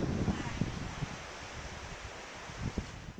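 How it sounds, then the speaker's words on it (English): Strong outdoor wind buffets the microphone with a steady rushing roar, broken by a few louder gusts and rustles. "as you might be able to tell, it's really windy."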